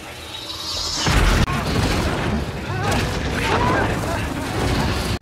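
Green liquid exploding and splattering everywhere in the 2015 Fantastic Four film: a sudden loud boom with a sharp crash, followed by a sustained roaring, crackling burst of debris and energy, with voices mixed faintly underneath.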